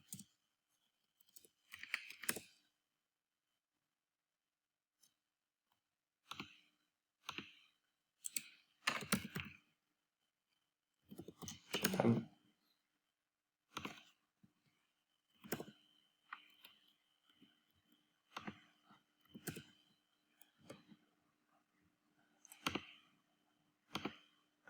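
Keys click and tap on a computer keyboard as a macro name is typed, in short scattered bursts of quiet, close keystrokes separated by brief pauses in a silent room.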